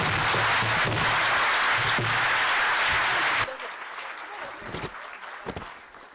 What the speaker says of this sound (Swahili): Makofi tafadhalini